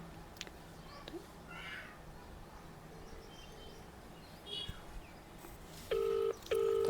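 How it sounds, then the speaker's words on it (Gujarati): A phone ringback tone on an outgoing call, sounding as two loud, steady tone bursts near the end after faint background noise and brief dial-like beeps. "રિંગ જાય છે અત્યારે"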